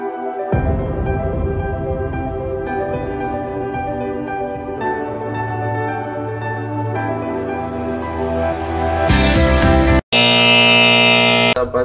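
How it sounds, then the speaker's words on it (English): An electronic buzzer on a water tank monitoring system sounds a continuous harsh alarm tone for high water level, shifting in pitch and intensity, cutting out briefly and then returning louder and brighter. "the buzzer will also beep to alert the user"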